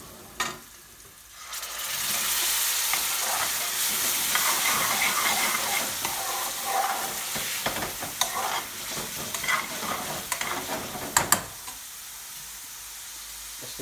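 Spices sizzle in a hot pan for a Madras-hot chicken aloo curry, a loud, even frying hiss with stirring scrapes that starts after a short pause and drops away near the end.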